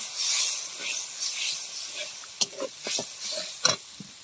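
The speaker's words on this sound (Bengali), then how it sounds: "ভালো করে মশলাটা কষিয়ে নেব।" Spices frying (kashano) in a pan for a Bengali fish-head muri ghonto, a steady bright hiss and sizzle with a few soft clicks of stirring, close and moderate in level.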